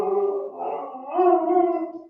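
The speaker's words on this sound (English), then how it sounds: "She howls and she like sings." A husky dog howls in a long, wavering, song-like tone, rising in pitch partway through, loud and close with no talking over it.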